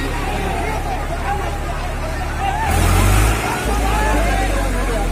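A ploughing tractor stuck in the mud, its engine droning low and then surging louder for a moment as it is rocked back and forth, under a steady babble of a crowd talking nearby.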